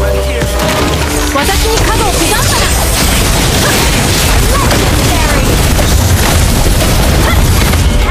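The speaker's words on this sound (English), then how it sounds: "turret has been destroyed" Explosion of a destroyed turret in the mobile game Mobile Legends: Bang Bang, a loud booming crash buried in a dense, continuous wash of game combat effects and music, with a game voice announcing over it.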